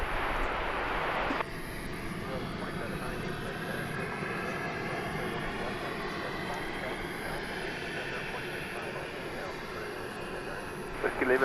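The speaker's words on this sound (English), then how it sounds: "A UPS 757 getting backed out just to the south of us" A UPS Boeing 757 is pushed back at DFW Airport at night, giving a steady, distant broadband jet engine roar that holds for several seconds, with a louder burst of noise at the very start.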